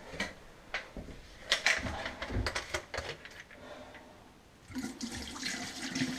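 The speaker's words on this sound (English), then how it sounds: "Turn on your hot and your cold. You can hear the water draining down through." Water runs from hot and cold taps and drains gurgling down through sink and bathtub pipes in a vacation house, with irregular splashes and knocks, fairly faint and close.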